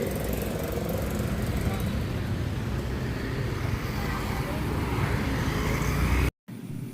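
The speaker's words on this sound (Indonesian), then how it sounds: "Yang ini sudah kawasan jalan raya besar." Traffic on a big main road in Indonesia, a continuous roar of passing vehicles heard at a close distance, with a brief dropout near the end.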